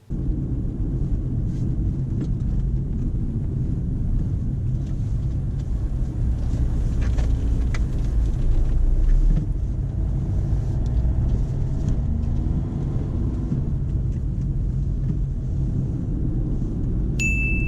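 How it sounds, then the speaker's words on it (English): A learner driver's car rounding a major roundabout during a driving test, heard from inside the cabin as a steady, loud low engine and road rumble that swells briefly midway, with no talking. "When turning left at this roundabout, Ilyas doesn't signal left"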